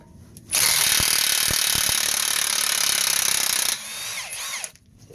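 A power tool, likely an impact wrench, works loose a 12-point axle nut on a Toyota Highlander during a lower ball joint job, one loud steady rattling burst of about three seconds, then winding down, with no talk.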